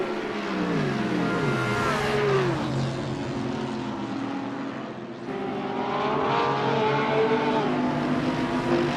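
A line of race cars circles Suzuka in a video game racing league. Loud, overlapping engine whines rise and fall in pitch as the cars pass close by in a continuous, layered roar, with no talk.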